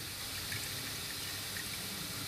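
Treated water pours steadily from the outlet of a water treatment unit, a continuous broadband rushing splash with no pauses and no voices.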